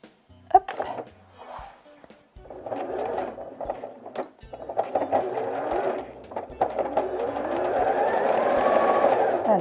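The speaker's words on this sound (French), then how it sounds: "je vais pouvoir me lancer en couture" A domestic sewing machine stitching a reversible fabric tissue box cover, bursts of motor whir and needle chatter starting and stopping, then a longer steady run, close by, with someone talking in between.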